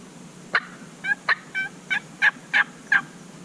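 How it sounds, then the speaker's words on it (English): Wild turkeys gobble during an Alabama turkey hunt, about eight loud, sharp gobble bursts spaced roughly a third of a second apart, carrying clearly over a quiet outdoor background with no talking. "these birds gobble at us"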